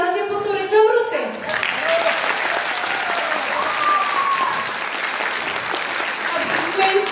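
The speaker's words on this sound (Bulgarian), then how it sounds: "Аплодисменти за Коце." Sustained applause from an audience at a Ruse tourism vocational high school's 74th anniversary event, dense and steady across the whole stretch, with a presenter's voice over it at the start.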